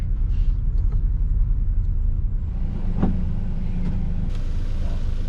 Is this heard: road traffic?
yes